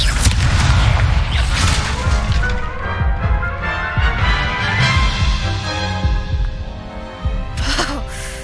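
Loud, booming Confringo explosion spells blast during a Hogwarts Legacy duel, with repeated heavy thuds and crashes layered over a dense, continuous game soundtrack.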